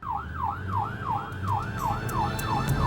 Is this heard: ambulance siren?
yes